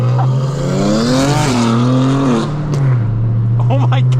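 A loud Dodge Hellcat engine revs hard with a deep, rising growl that falls back and settles into a heavy idle rumble, while voices talk over it near the end.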